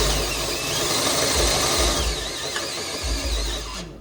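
A drill grinds at the nutserts of a Jeep YJ skid plate in a continuous whirring drone, with rising and falling pitch as the bit bogs and picks up, then stops abruptly at the end.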